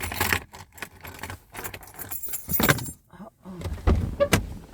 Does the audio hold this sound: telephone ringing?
no